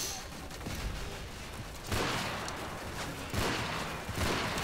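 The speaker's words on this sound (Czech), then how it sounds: "Něco po mně střílí, ale nevidím" Gunfire in Call of Duty: Modern Warfare 3 multiplayer, sharp bursts of shots crackling in quick clusters, with louder volleys arriving around the middle and near the end, no voices over them.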